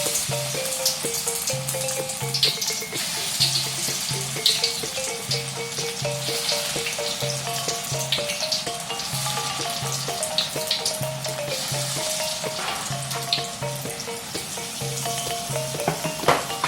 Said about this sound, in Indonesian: kita masukkan adonan kita ke dalam minyak panas